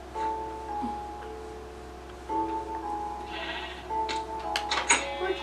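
Sheep bleating in the video game Minecraft, several wavering electronic bleats repeated over a few seconds with some game clicks, fairly clear and without talk.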